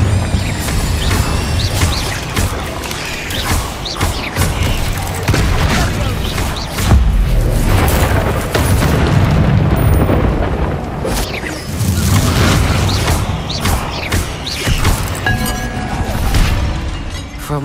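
Fiery Incendio spell blasts in the Hogwarts Legacy game burst repeatedly in heavy booms and crackling impacts, loud and dense through the whole stretch amid combat effects.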